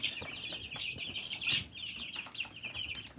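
Chicks in a coop peep in quick, high, overlapping chirps, steady and fairly close throughout, with a soft rustle beneath.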